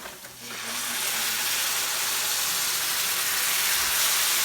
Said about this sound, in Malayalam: ഇനി നമുക്ക് കുറച്ച് തിളച്ച വെള്ളം ഇതിനകത്തേക്ക് ഒഴിച്ചു കൊടുക്കാം.